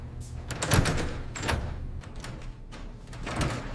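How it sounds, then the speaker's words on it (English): A door opens with a series of sliding, clunking knocks and rattles at close range, separate bumps spread across a few seconds against a quiet room. "Open the door."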